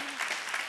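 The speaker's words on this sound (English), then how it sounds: "which deserves an applause" Audience applause at a ceremonial swearing-in event, a steady burst of clapping from a crowd heard briefly and fairly faintly.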